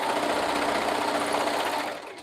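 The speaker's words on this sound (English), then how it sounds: "Just on the shoulder part, like right here where I'm sewing" A sewing machine runs steadily, stitching a shoulder strap near the snap area of a handmade item, with a fast, even mechanical whir held close and loud for about two seconds before easing slightly at the end.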